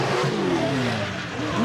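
A Spec-D class race car revs and accelerates out onto the track at Agassiz Speedway, engine pitch rising and sweeping upward, loud and close over a steady roar.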